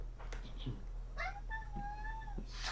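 A pet cat named Samson meows a few times in quick, short calls, faint and fairly close against a steady background hum.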